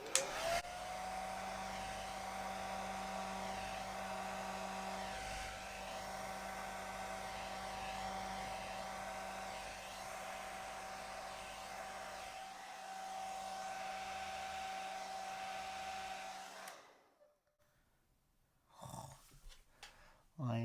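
A hair dryer blows steadily on a pink Dutch acrylic pour, a continuous whining hum lasting about seventeen seconds before cutting off, followed by faint handling noises.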